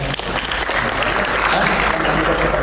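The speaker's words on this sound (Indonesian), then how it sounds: "Kasih tepuk tangan buat dia." An audience at a church youth gathering breaks into loud, sustained applause that fills the room. Faint voices are mixed into the clapping.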